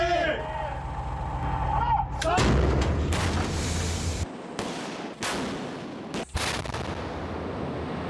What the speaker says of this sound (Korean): 육군 수기사 충무대대가 진행한 포병 사격 훈련의 현장